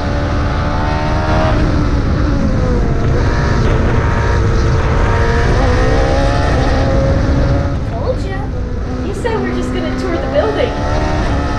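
A Formula 1 race car engine roars loud and continuous in a virtual-reality racing setup, its pitch rising and falling as it revs, with a few brief higher sounds near the end.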